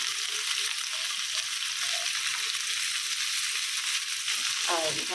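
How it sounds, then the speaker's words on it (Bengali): Potatoes frying in oil with a little turmeric: a steady, close, loud sizzle that never lets up, with faint soft knocks underneath and no talking. "এখন সেম তেলে আলু ভাজব সামান্য হলুদ"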